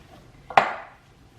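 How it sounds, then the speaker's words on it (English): A single sharp clink of a utensil against a bowl, ringing briefly and fading, while mashed potato is stirred with butter and salt for Northern Irish potato bread; close and fairly loud, with no talking. "we're just going to stir that to mix the butter and the salt in with the potato"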